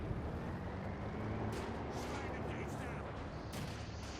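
Mortar fire during a Company of Heroes 2 match, several sharp booming blasts and crackling impacts from about the middle onward over a dense constant battle din, with a commentator talking throughout.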